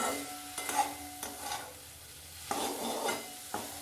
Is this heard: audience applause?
no